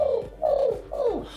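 A human voice imitates a pigeon cooing, giving three quick falling coos close to the microphone in a quiet room.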